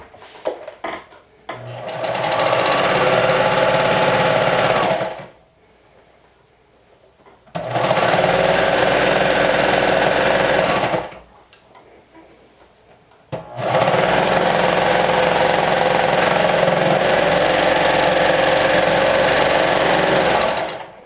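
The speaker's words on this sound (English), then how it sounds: "Now we're going to finish the raw edge of the arm opening with the serger" A serger finishes the raw edge of a sewing-project arm opening, running in three steady whirring bursts with short quiet pauses between them, loud and close.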